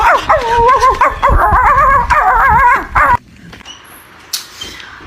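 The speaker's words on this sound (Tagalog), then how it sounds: "Bakit gising yung aso ni Aling Josie?" A dog barks, yips and whimpers in quick, loud bursts for a few seconds, then falls quiet.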